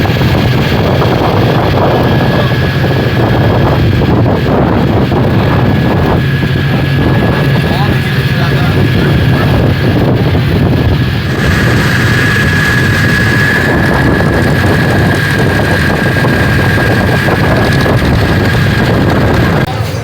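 Engine of a large river launch boat at Nabadwip ghat, a loud continuous low rumble with steady drone and wind buffeting, heavy and close throughout.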